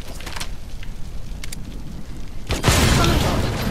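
A barrel blows up in Metal Gear Solid V: The Phantom Pain, a sudden loud booming blast about two-thirds of the way through that rumbles and slowly decays, following quieter game ambience and faint clicks.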